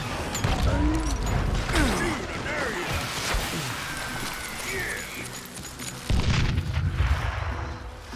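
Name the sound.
gunshots in video game Call of Juarez Gunslinger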